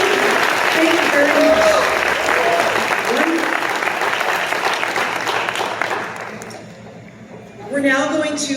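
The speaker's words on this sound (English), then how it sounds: "A big round of applause" Sustained applause from the audience at a women's breakfast event, loud and dense for about six seconds before thinning out, with a voice briefly audible as it fades.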